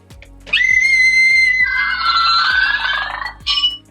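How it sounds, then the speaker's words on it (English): A Scream-themed Disney novelty cup lets out a loud, shrill electronic scream that holds for about three seconds, followed by a short second burst, in a quiet room. "It does actually scream though."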